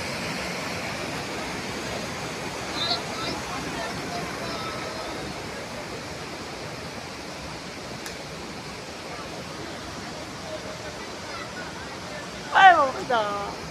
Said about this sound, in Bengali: জোরদার গতিতে জল পড়ছে।